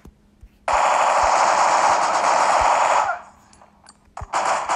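Rapid automatic gunfire in the Bullet Force shooter game, a loud sustained burst lasting a few seconds, then quiet and a second burst starting at the end, with no talk.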